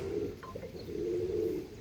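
Andhra line pigeons give a steady, low, rolling coo close by, one continuous murmur with a faint chirp on top, and no speech.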